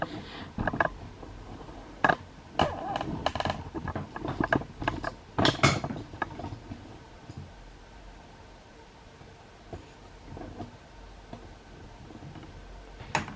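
An LK150 knitting machine carriage is pushed across the needle bed, giving clusters of clattering mechanical clicks and rattles that fade into quieter, sparse ticks, close by with no talk.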